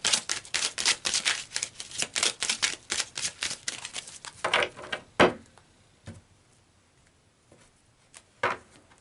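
Tarot cards shuffled and pulled from a deck, a dense run of crisp riffling clicks and snaps for about five seconds, then a few isolated card flicks and placements in near silence.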